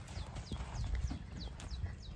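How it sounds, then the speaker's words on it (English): A horse in a pasture, turned out on grass, gives steady rapid hoofbeats at moderate distance, an even clip-clop rhythm under faint outdoor background noise with occasional high chirps. "Oh, look, Oreo says I'm in charge, and she is running Maddie's CNI horse."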